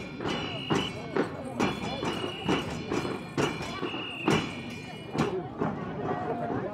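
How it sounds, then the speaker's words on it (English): Horses carrying riders trot past at the rear of a parade near the Great Wall of China, their hooves clip-clopping in a steady, close, rhythmic series of sharp knocks over a busy crowd background. "Bringing up the rear of the parade, the stars of the day, the horses and their riders."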